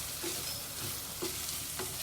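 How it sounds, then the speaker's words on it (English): Puliyogare rice mix is stirred in a hot pan, giving a steady soft sizzle with a few scraping strokes of the spoon at regular intervals and no talking. "Mix it well."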